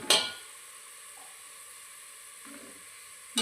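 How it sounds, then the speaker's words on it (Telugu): Onions fry in oil for chicken dum biryani over a lowered flame, a quiet steady sizzle broken by a few brief stirring scrapes near the start, middle and end. "ఇప్పుడైతే ఇంక కొంచెం వేగాలి ఇవి ఆనియన్స్."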